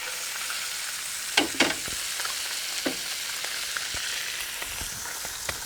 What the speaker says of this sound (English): now that the fish is in, I'm just going to kind of swirl the oil around a little bit so the oil gets under them